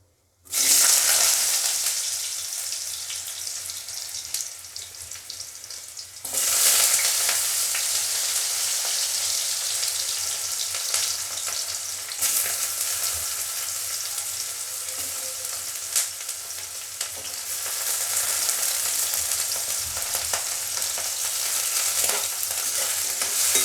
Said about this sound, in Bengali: এখন আমি আলুটা ভেজে নেব